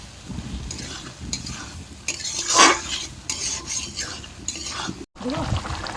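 Small boiled potatoes being stirred and sautéed in a pan for aloo dum, with repeated scraping and rubbing strokes over a low sizzle, close up, a brief metallic clink midway, no speech.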